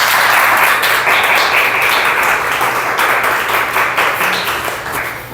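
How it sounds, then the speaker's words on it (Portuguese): Church congregation applauding during a worship service, loud, close and dense clapping from many people that starts strong and slowly thins and softens toward the end. "Vamos aplaudir."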